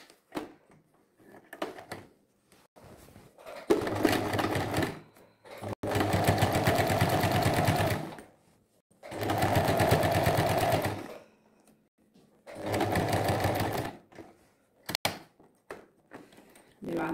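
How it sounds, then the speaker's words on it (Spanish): A sewing machine fitted with a zipper foot stitches a zipper in three loud, sustained runs separated by pauses filled with soft handling knocks and clicks, with a voice speaking in between. "lo ponemos y comenzamos a coser"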